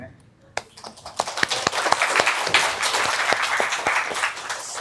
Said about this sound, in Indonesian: Boleh tepuk tangan buat Gusman Sige.